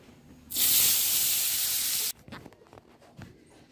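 Potatoes with turmeric hit hot oil in a loud, sudden hiss lasting about a second and a half, then drop back to a soft, low crackle with light clatter.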